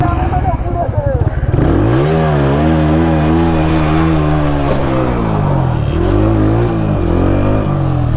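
Stunt motorcycle pulling wheelies in a zero circle at a crowded freestyle stunt meet, its engine revving loud and close in long rising and falling sweeps that build after a rough start, with no voices clearly over it.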